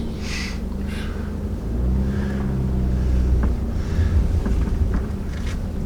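A car rolls slowly through the Copper Falls State Park campground after being shifted into gear, its low engine rumble steady and close throughout, swelling slightly midway, with no talking.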